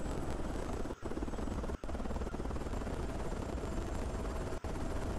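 A helicopter in the horror escape game Evil Officer gives a loud, steady rotor drone that fills the whole stretch, with a few very brief dropouts and no voices.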